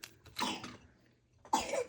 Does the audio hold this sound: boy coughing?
yes